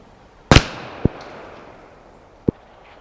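Handgun fired at a target 50 yards away outdoors: one sharp, loud crack with a short echoing tail, followed by two fainter distant pops or impacts.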